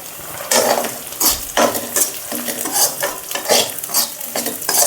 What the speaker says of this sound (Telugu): కొంచెం వెల్లుల్లిపాయలు, దంచిన వెల్లుల్లిపాయలు వేస్తున్నాను.